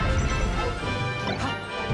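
Forward smash landing in Super Smash Bros. Melee during a competitive Fox versus Falco winners-finals match: a loud crunching impact crash amid dense game and crowd noise, lasting under two seconds.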